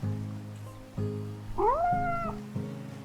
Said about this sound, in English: Kinda sounds like a cat. I like that little purr.